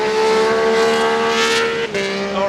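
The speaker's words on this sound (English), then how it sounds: "Congratulations on your silly little motorcycle that makes loads of noise." A loud motorcycle passes close by outside London Heathrow Airport early in the morning, its engine a strong sustained tone that shifts pitch as it goes by and then drops away near the end, with no talking.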